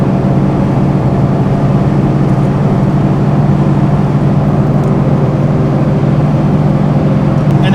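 A 1969 Chevrolet Corvette L88 on bias-ply tires cruises at about 3,200 RPM, its engine and road noise forming a loud, steady drone heard from inside the car with no talking.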